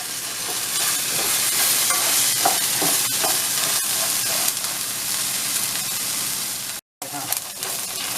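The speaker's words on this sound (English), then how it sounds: "And then just keep stirring, cook your onion down until it's translucent and not so raw." Onions sizzle loudly in hot oil while a utensil scrapes and stirs the pan, with a steady frying hiss throughout and a brief cut to silence near the end.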